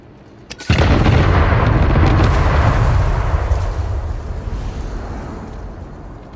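Explosions in the video game Satisfactory, like fireworks: a sudden loud boom after a short quiet lead-in, followed by a dense, crackling roar that slowly fades over several seconds.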